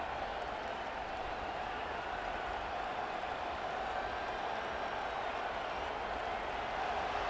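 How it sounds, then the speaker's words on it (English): Stadium crowd noise in EA Sports College Football 25, from a Washington vs Penn State game, forms a dense, constant roar that holds at an even, loud level from start to finish. "This crowd trying to make life miserable for this offense."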